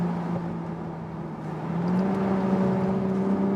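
A BMW Z4 Roadster in sport mode drives along at about 70 km/h, its engine a steady low drone that swells slightly midway as the car accelerates from inside the cabin.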